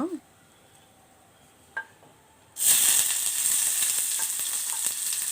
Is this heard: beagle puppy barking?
no